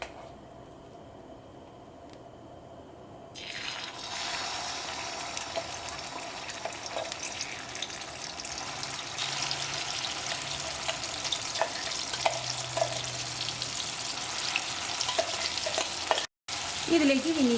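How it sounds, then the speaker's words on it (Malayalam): Ground chili paste dropped into hot oil erupts after a quiet start into a loud, dense sizzle that spits and crackles steadily, with a brief dropout near the end. "ഈ ചൂടായ ഓയിലിലേക്ക് നമ്മൾ അരച്ച് വെച്ചേക്കണം മുളക് ചേർക്കുക."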